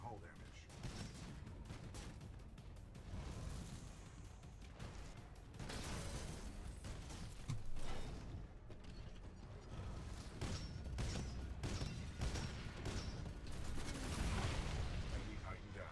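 Titan combat in Titanfall 2, a 40mm tracker cannon and tracking rockets firing against an enemy Ronin Titan, heard as dense, continuous mechanical clanking, bursts of gunfire and explosions, fairly quiet with game voices mixed in.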